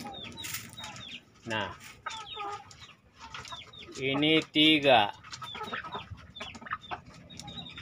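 Hens cluck and squawk inside a freshly tidied chicken coop, with several close, loud bursts, and someone talks intermittently between the calls.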